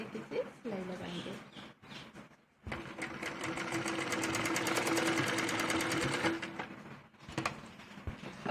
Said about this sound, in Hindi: इसके ऊपर हमें सिलाई लगानी है, और दूसरे पीस को भी हमें यहाँ पर रख के इसी तरीके से सिलाई लगाएंगे